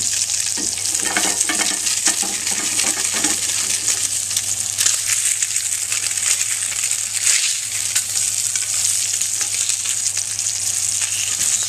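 Seabass fillet fries in clarified butter in a pan, a loud, close, continuous sizzle with crackling pops running throughout.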